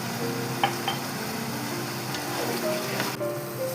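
Mutton masala for Thalassery dum biryani is stirred in a pan after salt is added, with soft scraping, a faint sizzle and a couple of light utensil clinks.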